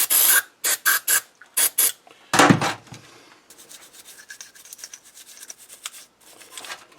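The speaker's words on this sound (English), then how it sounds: "Put some carb cleaner to it." Carburetor cleaner sprays from an aerosol can with a nozzle onto the carburetor of an 8HP Tecumseh engine, in a series of short close hissing bursts followed by one longer spray and then softer dripping and rustling.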